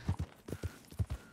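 Horse hooves clip-clopping on a road in the video game Red Dead Redemption II, a steady run of distinct close hoof strikes in uneven pairs, with no talking.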